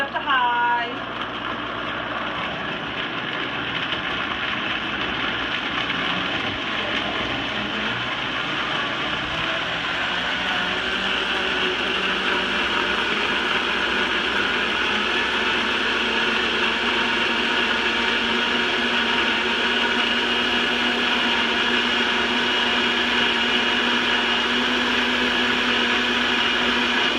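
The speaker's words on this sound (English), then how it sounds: "if you have a regular blender, you can just start on low, get it hopping, and then just scoot up to high" A countertop blender whirs steadily as it grinds almonds with water into homemade almond milk, starting low and settling into a loud, continuous high-speed drone over about half a minute, with no voices.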